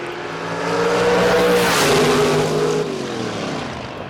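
Two drag race cars launch together down the strip at a Lyons, Indiana track, a loud sustained engine roar with falling and rising pitch as they accelerate away, steady for several seconds.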